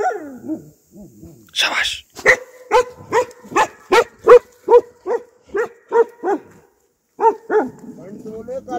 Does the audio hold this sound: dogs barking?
yes